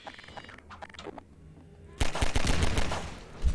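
Heavy gunfire from big guns in the Half-Life 2 video game bursts in loudly as a rapid, sustained barrage, preceded by quieter game ambience and scattered noises.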